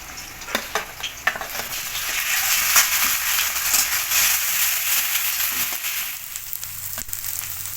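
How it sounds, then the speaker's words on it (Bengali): Capsicum and onion paste fry in a pan with a steady, close sizzle, broken by sharp scrapes and clicks of a spatula stirring, with no voices over it. "ক্যাপসিকামটা একটু ভেজে নেব। এবার দিয়ে দিচ্ছি পেঁয়াজ বাটা,"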